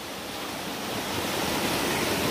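Creek water flowing steadily through a rocky mineral prospecting area, a continuous broadband rushing wash that grows slightly louder over a couple of seconds, with no voices.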